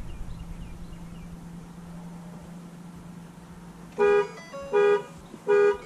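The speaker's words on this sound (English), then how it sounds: "The horn might start honking after this" A low steady hum for several seconds, then three loud, evenly spaced horn honks from a 2017 Ford F-250 pickup's alarm, each about half a second long.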